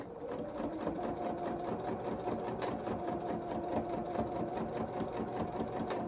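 A domestic sewing machine runs steadily, stitching rows of seam on small doll coveralls, a continuous close whirring hum with fast rhythmic needle clatter lasting throughout, no pauses and no talking.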